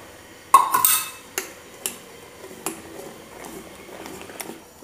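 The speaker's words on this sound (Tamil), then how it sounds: "நல்லா கட்டி இல்லாமல் கிண்டிக்கோங்க." Dosa batter is stirred in a bowl, with an utensil clinking and scraping against the sides in several separate knocks, followed by soft, wet, irregular stirring noises, close by.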